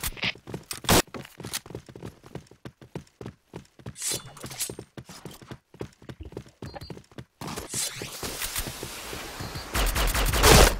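Rapid gunfire in the shooting game Point Blank: dense clusters of sharp shots crackle in quick irregular bursts, then turn into a louder sustained stream of firing near the end.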